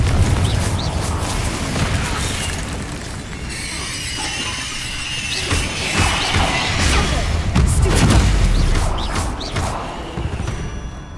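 A Confringo fire spell blasts in Hogwarts Legacy amid dense game combat, with repeated loud crashing bursts and booming impacts layered over a constant roar of action.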